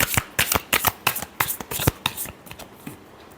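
Tarot cards being shuffled by hand in a series of crisp riffling bursts, close and fairly loud, fading toward the end.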